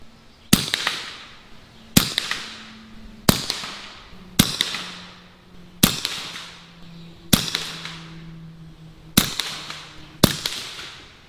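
Eight sharp PCP air rifle carbine shots with a short pistol-length barrel, fired offhand at about 30 yards, crack at a steady pace roughly every one to two seconds, each loud and close with a brief fading tail.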